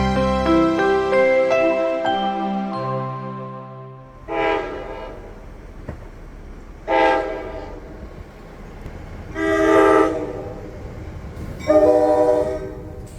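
A train horn blasts loudly with a long, harmonic chord, then a train passes nearby in swelling, rumbling surges near a residential rail line.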